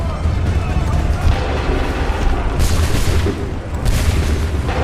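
Musket volley fired on command in Assassin's Creed III, a dense crackling barrage of booming shots that stays loud throughout, with shouted orders and other voices mixed in.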